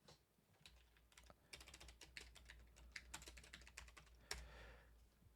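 Quiet typing on a computer keyboard, with irregular bursts of soft clicks and taps close by and a faint low hum underneath.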